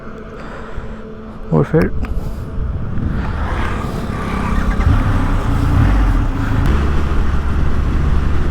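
A keyless Triumph Rocket 3 motorcycle switched on, its engine rising into a loud, steady, rumbling idle after a brief mechanical chirp, with someone speaking over the start.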